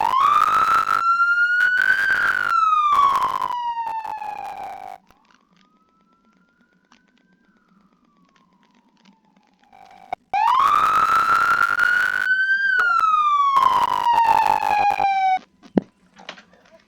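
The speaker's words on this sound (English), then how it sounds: "you have to press code 1 to go to code 3, which is siren and lights only" Police car siren from an Arma 3 police mod video game wails loudly in rising and falling sweeps. A quieter tone fills a gap in the middle before the full siren returns and stops abruptly.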